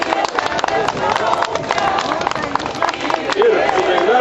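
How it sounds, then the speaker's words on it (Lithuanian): Applause for the Joniškis group at a former deportees' gathering in Ariogala, a crowd clapping steadily in the background while an announcer speaks over it throughout. "Plojimai Joniškiui."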